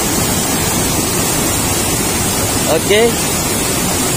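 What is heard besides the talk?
waterfall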